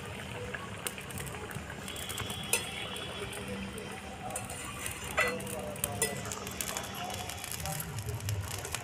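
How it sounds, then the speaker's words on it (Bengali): Paneer curry with ground cardamom being stirred in a pan over a hot stove, with soft scraping and a steady low sizzle, small clinks and scrapes breaking through now and then. "ভালো করে নাড়িয়ে নেব। বেটে রাখা এলাচটা দিয়ে দেবো।"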